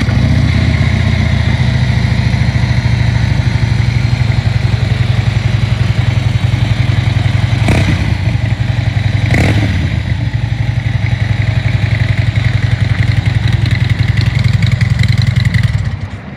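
A 2015 Harley-Davidson Ultra Limited Low touring bike with a 103 cubic inch Twin Cam engine and Reinhardt exhaust idles up close, its deep, steady rumble broken by two brief throttle blips before cutting off at the end.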